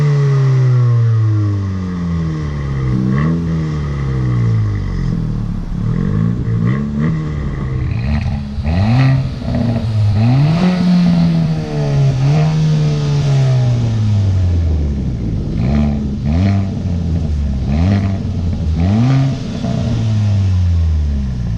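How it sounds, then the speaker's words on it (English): Kia Forte GT and Honda Civic Si sport sedans rev their exhausts in repeated loud, rising and falling blips, deep throaty engine notes swelling and dropping close by with no talking. "here are some proper exhaust clips of both vehicles"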